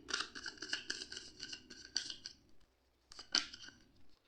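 Tarot cards are pulled from a deck, a close, quiet series of rapid crisp riffling and snapping card sounds, then a pause and one more brief burst of shuffling.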